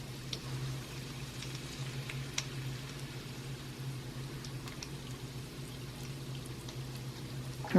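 Evaporated milk is poured into a pot of cheese sauce for mac and cheese, making a faint steady liquid trickle over a low bubbling hum, with no voices heard.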